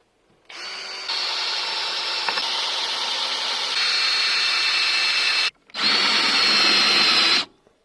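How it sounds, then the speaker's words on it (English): A power drill bores screw holes into wooden boards for an outdoor garden bed joint: a loud, close, continuous whine held for about five seconds, a brief pause, then a second shorter burst, with no one talking. "now it's time to drill some holes so that I can use screws to fix this joint"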